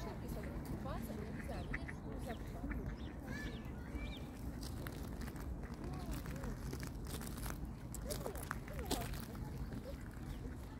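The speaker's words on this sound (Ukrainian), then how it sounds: "А зараз подивимося все-таки на качок." Domestic ducks and drakes splash and quack at a pond in a riverside park, scattered calls over constant water and background noise, fairly faint, with people talking nearby.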